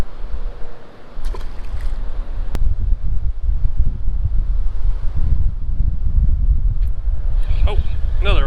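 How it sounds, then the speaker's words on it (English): Strong wind buffets the microphone outdoors by a river in a state park in a constant low roar, with faint splashing water and brief knocks. "Pretty windy out here though."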